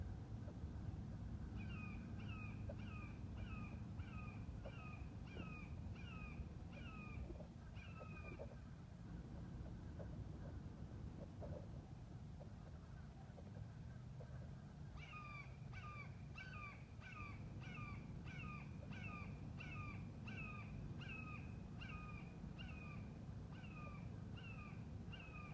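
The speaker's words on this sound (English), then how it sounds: "There's too many crows over there." Crows caw outdoors in repeated runs of short, harsh calls, a string of about eight, a pause, then another longer string. They sound at middle distance over a steady rumble of background noise.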